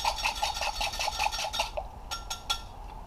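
Olive oil and lemon juice are briskly whisked in a bowl to emulsify, a fast rhythmic metallic scraping that stops after about a second and a half, followed by a few separate clinks.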